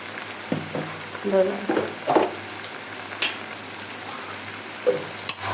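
Chicken sizzles softly in a pan while a utensil stirs it in a few scraping strokes, with quiet intervals between the movements.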